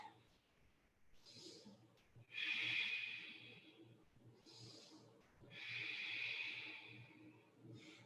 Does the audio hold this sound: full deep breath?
yes